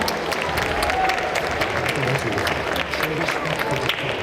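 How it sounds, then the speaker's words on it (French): Audience applause during a video game competition event, continuous clapping from a crowd with a voice speaking over it. "applaudissements pour Axel"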